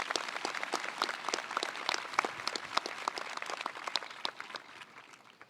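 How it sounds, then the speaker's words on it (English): Graduation audience at a senior high school ceremony applauds, dense distant clapping from many hands in a steady rolling wash, fairly faint, with no talk over it. "can we get a round of applause for all these amazing people?"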